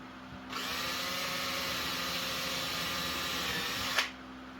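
A power drill drilling holes in wood runs steadily for about three and a half seconds, a continuous whining drone that stops abruptly with a final bump.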